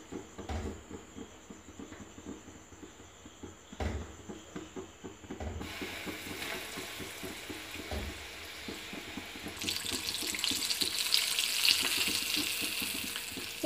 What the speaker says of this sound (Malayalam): ഇനി നമുക്കിതൊന്ന് ഫ്രൈ ചെയ്തെടുക്കാം.